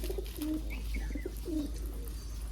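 Pigeons coo softly in low, rolling calls, a few repeated phrases close by over a steady low hum.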